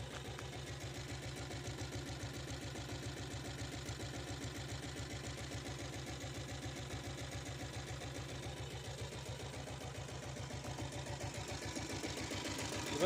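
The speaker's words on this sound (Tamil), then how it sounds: "வண்டி பீட் கேளுங்க ஃப்ரெண்ட்ஸ்." A 7.5 HP diesel Bullet motorcycle engine idles low and steady, thumping at an even, fast beat for the whole stretch, close by and unchanging in level, with no talking over it.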